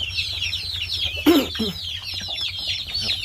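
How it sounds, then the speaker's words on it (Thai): Young chickens of a Thai native breed, about a month old, cluck and chirp continuously inside a coop, with a brief louder squawk partway through and a low hum underneath. "เดี๋ยวพาไปดูไก่ข้างในครับ"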